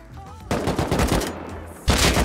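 Rapid bursts of automatic rifle fire in the survival video game Rust, loud and close with a short pause between volleys.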